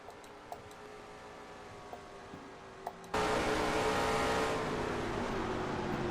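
Number 5 Delphi Chevrolet stock car racing on a track in the NRSL Mello Yello Series, the engine note faint with light ticks at first, then a sudden loud, dense roar of engines that holds steady.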